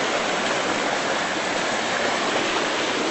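Floodwater from a swollen creek pours over the top of a bridge in a loud, steady, close rushing roar that never lets up, with no voices.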